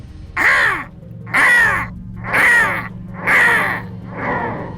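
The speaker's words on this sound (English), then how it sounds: "the crow released a blood-curdling caw, caw, caw, caw, nearly as loud as the gunshots themselves" A crow caws five times in a slow, even rhythm, each call loud and harsh, the last one a little weaker, over a low steady hum.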